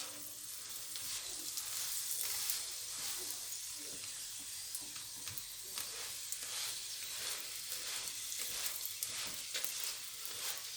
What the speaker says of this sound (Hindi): मैंने तेल डाला है, आप घी भी डाल सकते हैं, घी का पराठा बना सकते हैं।